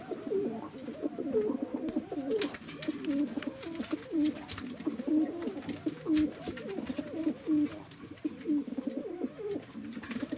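Pigeons coo in a steady run of repeated, rolling calls at close range, loud and continuous throughout, as rival birds squabble and peck at one another.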